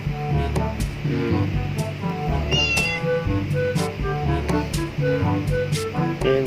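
Repeated cat meows, fairly close and loud, several in a row with short pauses, over a steady background hum.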